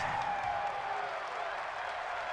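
A football stadium crowd roars in a continuous, loud wash of cheering and noise during a Buffalo Bills versus Cincinnati Bengals game, with no break.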